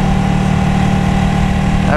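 A Ducati Panigale 899 motorcycle engine idling close by, a loud steady low rumble with an even pulsing throb throughout.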